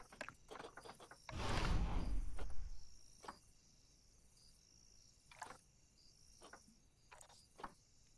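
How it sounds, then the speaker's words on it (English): Cricket chirping fills a Planet Zoo outdoor ambience, steady high-pitched trills with scattered ticks and a brief louder rustling burst early on. "I ain't gonna lie, I love that cricket sound."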